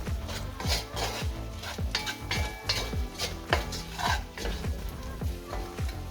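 A spoon scrapes and stirs through a beans and sausage stew seasoned with cayenne, sweet paprika and smoked paprika, with a steady rhythmic scraping and a light sizzle underneath, close and moderately loud.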